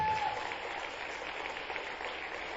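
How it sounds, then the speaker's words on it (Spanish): A church congregation applauding in praise to God, a steady wash of clapping that is fairly faint and distant, holding evenly throughout without any voices. "Un aplauso a Dios"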